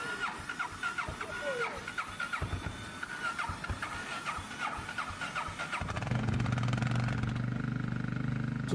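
A motorcycle in freezing weather is cranked with a whining starter and sputters, then catches into a rough, steady idle for the last few seconds, under a man's speech.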